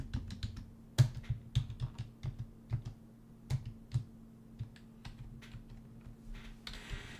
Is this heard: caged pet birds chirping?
no